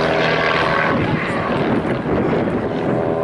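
Aircraft flying a formation display at the Duxford summer air show pass loud and close in a dense, continuous roar of engines, with wind-like rumble throughout the short burst.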